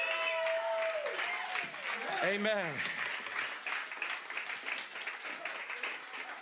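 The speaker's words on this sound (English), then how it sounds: "Would you give Jesus one last Georgia round of applause?" Applause from a large church congregation at a Friday night prayer service swells under a preacher's voice and cheers, then carries on as dense, steady clapping.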